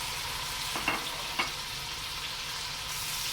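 Three peeled, chopped tomatoes fry with browned onions for keema dal mash, a continuous hissing sizzle broken by two quick spatula scrapes early on, with no voices.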